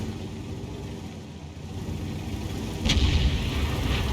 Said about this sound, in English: Whenever you hear that rumble, it means that there's a shot coming in this direction